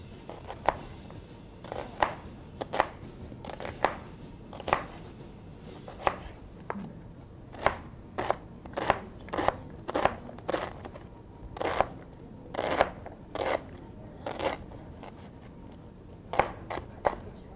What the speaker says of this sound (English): I like to kind of chop them this way